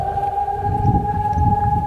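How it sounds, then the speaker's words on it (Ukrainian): An air raid siren wails in northern Saltivka, Kharkiv, a loud steady tone heard outdoors that holds without a break for the whole short stretch, with low rumbling noise underneath. "Лунає повітряна тривога."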